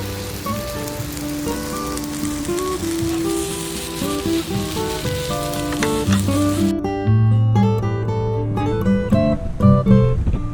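Eggs sizzle and fry in a pan at a campsite, a steady loud crackle with occasional clinks and scraping near the end; no talking.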